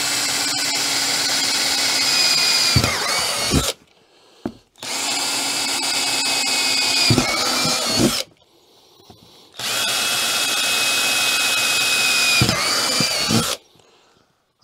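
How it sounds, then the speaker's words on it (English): A power drill drilling holes in a wheelbarrow tub whines loudly in three long bursts, each several seconds, separated by short pauses, with a few clicks and knocks as it stops. "So basically, I'm just going to do that with a drill."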